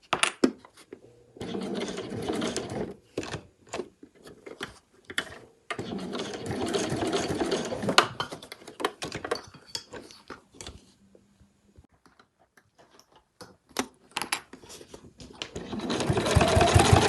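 A sewing machine slowly stitches around the curve of a fabric travel wallet, running in steady bursts with short pauses as the fabric is turned, close and fairly loud, then revving up again at the end.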